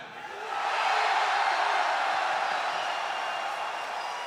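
A packed esports arena audience at The International 2017 Dota 2 All Star Match roars for Team Dire, a dense continuous wash of cheering that rises quickly then stays loud and steady.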